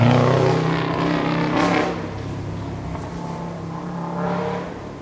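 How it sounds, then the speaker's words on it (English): Super production Subaru rally car racing a stage without anti-lag, its engine droning loudly and steadily close by, rising and easing as it passes through a corner. "That's a super production Subaru, but it's not running anti-lag, which is why it sounds so very different from Travis and Terry Hansen's car"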